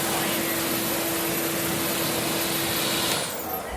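A Whisper Aero electric leaf blower, a quieter design of equal power to a typical blower, runs steadily with a loud broadband airy rush and a faint tonal hum, alone and continuous before tapering near the end.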